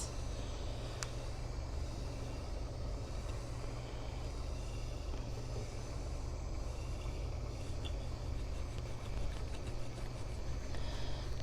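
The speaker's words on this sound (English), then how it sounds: "Oh, my torch is running out of gas." A handheld gas torch flame running low on fuel while heating alcohol ink and resin on a tumbler gives a steady, close, broadband hissing roar that holds level throughout.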